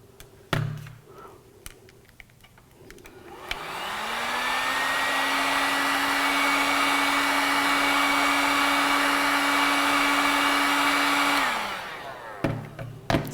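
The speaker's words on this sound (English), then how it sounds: "it may be necessary to warm it up with a hairdryer in order to bend it." A hairdryer warms the stiff feed tube from an AprilAire 768 humidifier maintenance kit. It spins up with a rising whine, holds a loud, steady blowing roar for about eight seconds, then winds down, with small clicks at either end.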